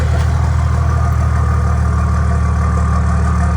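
A truck engine with a custom exhaust idles steadily and loudly up close, a constant low rumble with a fine pulsing throb and no voices.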